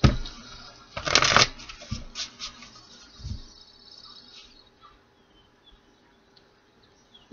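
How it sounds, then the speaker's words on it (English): A quick riffle of shuffled tarot cards, a crisp burst of flapping paper, followed by softer sliding and tapping as the deck settles, close and alone. "And one more shuffle."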